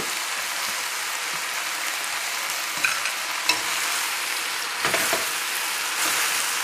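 Spinach sautés with vegetables in a hot pan, a steady bright sizzle with occasional stirring scrapes and clicks, close and continuous with no talking.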